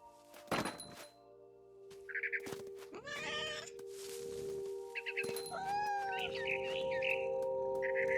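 Cat meowing in What Remains of Edith Finch, a few close meows and a drawn-out yowl mixed with soft thumps and bright bird chirps over a low ambient drone.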